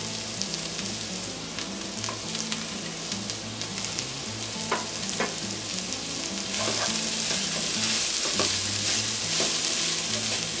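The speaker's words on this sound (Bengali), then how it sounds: "এখন আমি দিয়ে দিচ্ছি বাঁধাকপি আর 2 ধরনের বেল পেপার বা ক্যাপসিকাম।" Cabbage and two kinds of bell pepper stir-fry on high heat, a loud continuous sizzle with a spatula scraping and clattering against the pan in an irregular rhythm, close up and with no voices.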